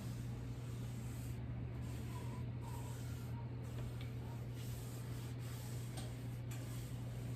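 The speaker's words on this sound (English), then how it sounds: "That's the spray." A spray can hisses in a steady, continuous stream beside a steady low hum in a kitchen, with a few faint clicks and no talking.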